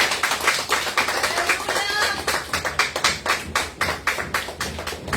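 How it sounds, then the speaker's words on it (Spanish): A church congregation applauds with a steady stream of hand claps, dense and fairly close, some falling into a loose rhythm, with faint voices mixed underneath. "¿Qué te parece si le damos un aplauso al Señor?"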